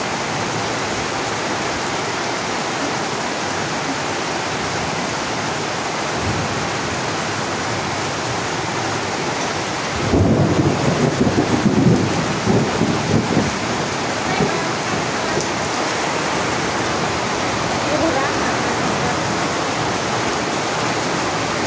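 Steady heavy monsoon rain roars continuously during a thunderstorm with lightning, with a louder swell of downpour midway, like rain pounding hard.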